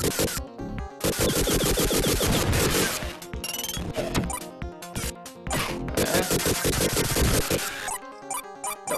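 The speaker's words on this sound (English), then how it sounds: "Oh, jeez, explosions!" Dense, continuous crashing and smashing from a 16-bit Vectorman action game fill the whole stretch, loud and busy, with bursts of clatter and rapid layered impacts and only brief dips.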